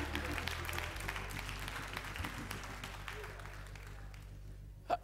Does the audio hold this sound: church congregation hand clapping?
yes